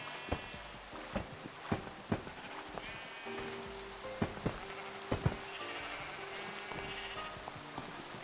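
Steady Minecraft rainfall patters continuously with sharp droplet taps, while sheep bleat now and then in the background.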